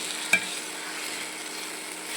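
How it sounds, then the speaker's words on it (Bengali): Spices fry in a pan for khichuri with a steady, close hiss of sizzling oil, broken by one sharp utensil tap near the start, with no voices. "খিচুড়ির জন্য মশলা কষানো হচ্ছে"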